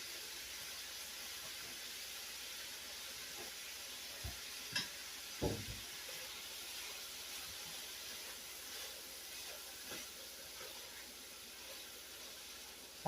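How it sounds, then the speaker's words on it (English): Green and red peppers hit a hot pan for a smoked sausage sweet potato hash, giving a steady low sizzle and hiss with a few faint stirring clatters and scrapes throughout. "And then I'm going to add some peppers and some green and red peppers."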